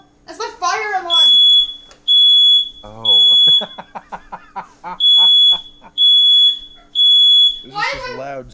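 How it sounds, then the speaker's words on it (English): A home smoke and fire alarm shrieks in loud, regular high-pitched beeps, repeating about once a second, while people talk and exclaim in between and around the bursts. "That's my fire alarm."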